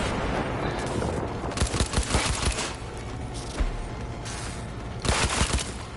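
Sustained bursts of assault rifle fire in Cyberpunk 2077 during a fight against a large enemy, loud and dense rattling volleys with short pauses between them and no voices.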